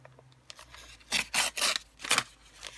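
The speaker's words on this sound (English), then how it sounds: "I need to trim that because it's not straight" Scissors trim paper for a planner collage: several crisp snipping cuts, close and distinct, after a few faint rustles.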